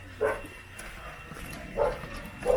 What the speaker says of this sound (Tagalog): may aso dun galit siya